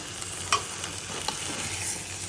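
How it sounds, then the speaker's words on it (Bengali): Bottle gourd cooking with minced meat, fat and split chickpea lentils in a pan, stirred and sautéed: a faint steady sizzle with soft scraping stirs and a couple of brief clinks, no talking. "এখন নেড়ে চেড়ে কষাবো যতক্ষণ ওটা কষে কমে আসতেছে"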